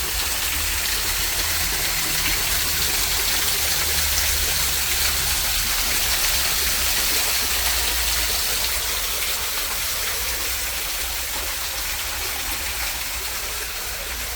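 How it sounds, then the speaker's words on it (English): A waterfall inside a cave in Belém, Brazil, pours as a steady, dense hiss of falling water, continuous and fairly close, with no talk. "Waterfall."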